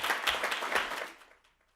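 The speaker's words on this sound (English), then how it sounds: "we'll clap for all of" Brief burst of audience clapping at a community forum, a quick wave of claps that fades away within under two seconds.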